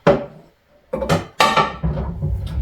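A metal wok clanks and scrapes in a few close, sharp bursts separated by short pauses, like a pan being set down and shifted on a burner.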